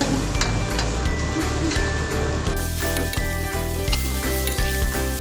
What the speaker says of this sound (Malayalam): എല്ലാം ഇങ്ങനെ വറുത്തും പൊരിച്ചും നിരത്തിക്കൊണ്ടേയിരിക്കുകയാണ്